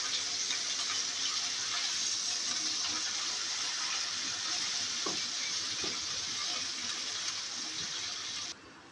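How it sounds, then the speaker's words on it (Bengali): Spices with ginger and garlic paste fry in hot oil for a spicy mutton bhuna, giving a steady, close, bright sizzle with faint stirring clinks that continues evenly before suddenly quietening near the end. "মশলাগুলোকে তেলের সাথে খুব ভালোভাবে ভেজে নেব যেন কাঁচা গন্ধটা না থাকে"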